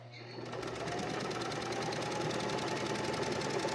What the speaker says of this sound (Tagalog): So after nga nating matahian ng straight stitch ay gamitan naman natin ng zigzag stitch.